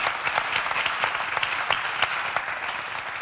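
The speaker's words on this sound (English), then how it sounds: "Applause for Nula." Audience at a Rosco cinematography lighting seminar at the EnergaCAMERIMAGE 2022 film festival applauding steadily, a dense patter of many hands clapping at even loudness throughout.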